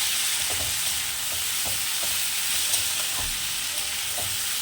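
Chopped tomatoes frying with onions in a pan for a tengra fish curry, a steady loud sizzle throughout with soft scraping stirs now and then, no voices.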